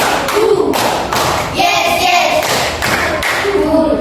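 A class of children clapping in a counted pattern of one, two and three claps, producing a series of sharp, close hand thuds in short groups, with a few young voices mixed in.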